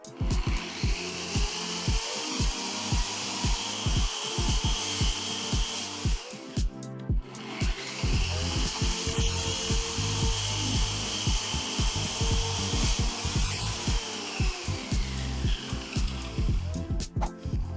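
A WEN track saw cuts through wood in a long, steady, loud whine, the blade rasping through the board with a brief pause midway before another continuous cut follows.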